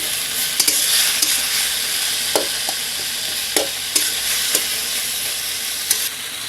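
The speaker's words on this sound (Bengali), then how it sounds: "আমি দুই দুই মিনিটের মতন কষাই নিয়েছি" Boiled taro leaves stir-frying in a pan, village style, give a loud continuous sizzle with regular scraping strokes of a spatula spaced every second or so.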